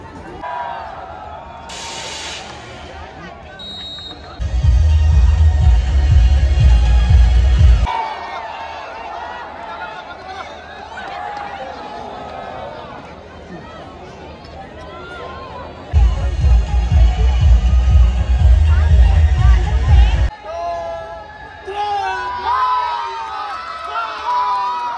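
Crowd noise in a stadium at an India women's hockey match: a steady murmur of many voices, with two louder bursts of roaring cheer that swell and then drop back to the background hubbub.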